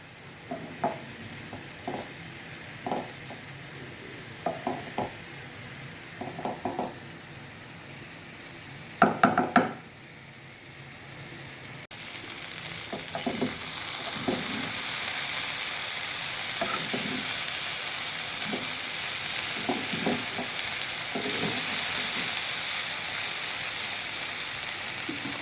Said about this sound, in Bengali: মিডিয়াম আঁচে আমরা ভেজে নেব